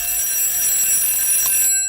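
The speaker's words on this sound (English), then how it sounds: "your daughter has set an alarm for the street or her own self" An alarm clock rings loudly and continuously at close range, a shrill, sustained electronic tone that cuts off abruptly near the end.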